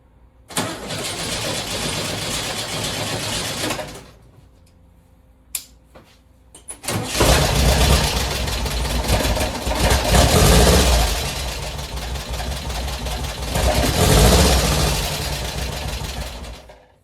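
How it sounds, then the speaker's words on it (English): A 1967 VW Type 3 Squareback cranks and fires, stops, then restarts and settles into a loud, steady idle with rising and falling revs, close up and alone. "I'm gonna start the car up again and see how easy it is to start."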